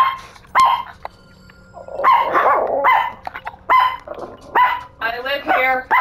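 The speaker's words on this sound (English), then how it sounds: "Stop barking at me" A dog barks repeatedly at close range in a series of sharp, irregular barks and yips, with short gaps between bursts and a higher whimpering note near the end.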